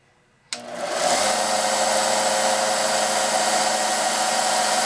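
A benchtop mini disc and belt sander starts up abruptly from quiet and settles into a loud, steady whirring hum that carries on unbroken at close range.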